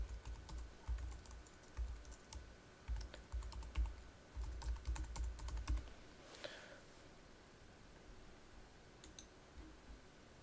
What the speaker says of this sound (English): if you had an external person's email address and you wanted them on this contact list, then you just type in their email address